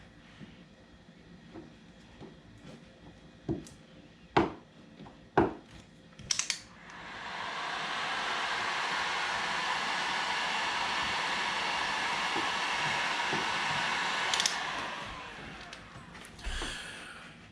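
A heat gun warms a plastic patch to plug a hole in a kayak, blowing a steady, close rushing whoosh for several seconds after a few knocks and handling clicks, then cutting off.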